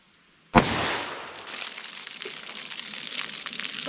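A single sharp, loud .357 Magnum shot with a Hornady Custom round cracks out outdoors, followed by a brief fading rumble and rustle.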